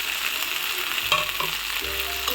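Slit green chilli, panch phoron and black cumin fry in hot oil in a pan, a close, steady sizzle with crackles and a few scraping stirs.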